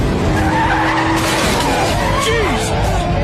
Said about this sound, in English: Carter ends up having the time of his life and absolutely wrecks Cole's car in the process